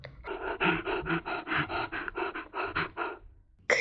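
A person reading a picture book aloud imitates a monster's panting with a string of breathy, rhythmic huffs, close and fairly loud, about a dozen in quick succession with no words spoken.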